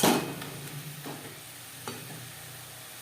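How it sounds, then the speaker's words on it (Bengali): Khesari greens are stirred in a pan over high to medium flame, a soft steady sizzle of frying with a few scraping spoon strokes, close and fairly quiet, no talking. "হাই টু মিডিয়াম ফ্লেমে 3-4 মিনিট নাড়াচাড়া করে নেব।"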